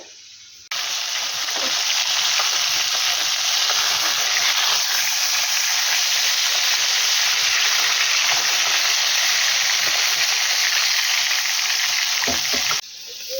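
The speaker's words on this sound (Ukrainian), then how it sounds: "Поки риба смажиться" Crucian carp sizzle steadily in hot oil in a pan outdoors in a yard, a loud constant hiss with small pops and crackles, running unbroken for several seconds before cutting off.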